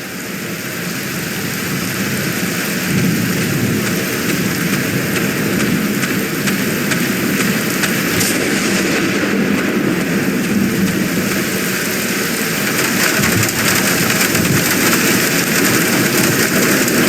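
Steady rain pours down during stormy weather in the Black Mirror video game, a continuous wash of noise with a low rumble beneath, no distinct thunder crack standing out.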